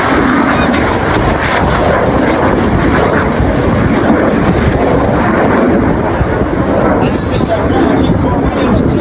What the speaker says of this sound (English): Each aircraft will form a barrel roll, followed by cross, a second barrel roll, in a maneuver simply called the double roll.